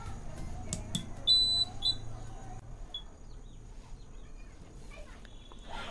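A homemade laser home security system alarm sounds, a shrill electronic beeping tone in short bursts over a faint room hum, with quieter chirps after it stops.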